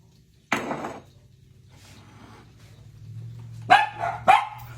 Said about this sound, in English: we get some barking going on